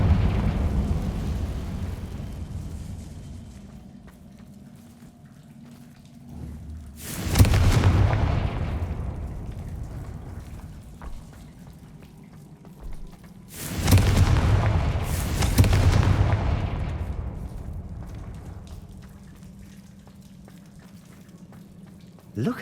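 Confringo blasting spell in Hogwarts Legacy, two deep booming explosions several seconds apart, each swelling into a rumbling roar and fading, over low ambient game tone.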